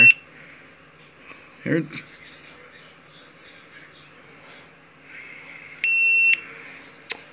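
A GoPro Hero camera gives off short electronic beeps, including a longer steady tone near the end, faint against a quiet room, with a person speaking briefly.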